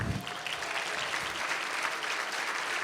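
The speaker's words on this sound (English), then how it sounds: "I wanna give a round of applause for the team" A room full of guests applauds for a chamber of commerce team at an annual awards dinner, with dense, steady clapping throughout.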